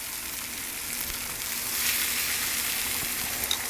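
A bone-in ribeye steak sears on a soapstone in a Kamado Joe Big Joe grill, making a loud, steady close sizzle that swells slightly midway, with no voices.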